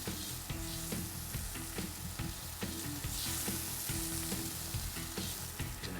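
Whole eggs frying in butter with salt and pepper give off a dense, crackling sizzle in the pan, steady and close throughout with rapid popping spatters and no speech.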